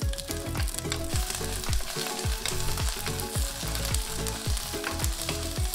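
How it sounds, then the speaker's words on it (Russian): Chopped onion sizzles steadily in hot vegetable oil in a clay pot, a dense continuous frying hiss broken by repeated rhythmic scraping thuds of stirring, close and loud with no voices. "Добавляем 1-2 столовых ложек растительного масла и выкладываем жариться репчатый лук."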